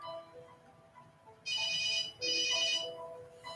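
A cell phone rings inside a sealed blast test chamber primed with gas, giving two loud bursts of electronic ringtone separated by a short gap, with a quiet room hum before and after.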